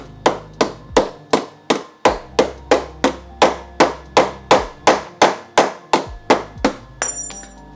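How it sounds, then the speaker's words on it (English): A hammer strikes the rocker panel bodywork of a Honda Fit about seventeen times in a steady, even rhythm. Each blow is a loud, close metallic knock with a short ringing decay, and no one speaks. "I'm just going to pull that there and hammer time that"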